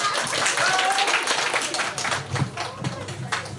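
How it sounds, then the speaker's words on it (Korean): A crowd at a family year-end gathering in a wedding hall claps continuously with quick, dense applause. A few voices mix in. "자 다시 한번 박수 한번 주세요"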